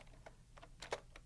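A few quiet keystrokes tap on a computer keyboard as an ssh command is typed, sparse and irregular clicks heard close but faint.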